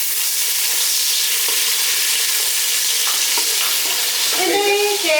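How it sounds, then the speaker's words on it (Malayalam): Ripe tomatoes fry in oil for a Kerala-style mixed pasta masala, giving a steady, loud sizzle with scraping stirs, and a brief higher clink near the end. "നമ്മള് 2 തക്കാളി പഴുത്തത് ഇട്ട് കൊടുക്കാം. ഇളക്കി കേട്ടാം."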